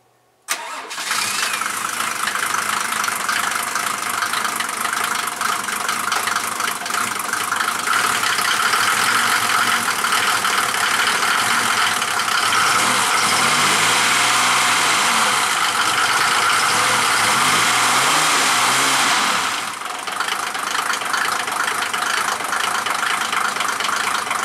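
A Mercedes 208 van with an OM603 diesel engine runs steadily and loudly close by as it pulls away, the diesel note holding strong for about twenty seconds before easing slightly near the end.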